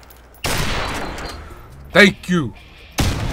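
In a sniper shooter video game, gunshots crack in sharp bursts, one early and one near the end, and a voice speaks briefly between them.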